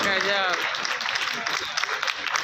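Audience applause fills an award presentation at a Lions club ceremony, a broad, sustained wash of clapping with voices mixed in throughout.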